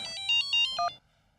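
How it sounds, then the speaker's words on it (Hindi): Phone ringtone in a comedy skit, heard as a kidnapper calls, plays a short electronic melody of a few bright tonal beeps, then cuts off abruptly into near silence. "किडनैपर का फोन।"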